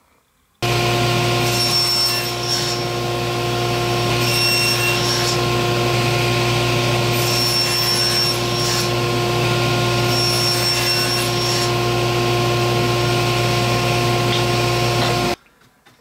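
A scroll saw cuts out a hardboard frame with a continuous, loud buzzing whine and fast blade chatter, running steadily for about fifteen seconds up close before stopping.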